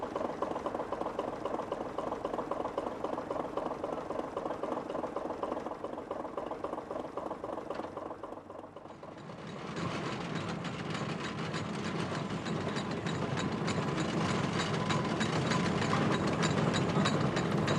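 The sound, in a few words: steam ploughing engine running at country show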